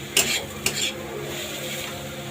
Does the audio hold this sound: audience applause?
no